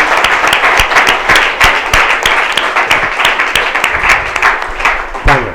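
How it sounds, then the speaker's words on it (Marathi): A church congregation applauds during a sermon, a dense, loud run of many hands clapping that continues steadily for several seconds. "टाळ्या वाजवून संपला."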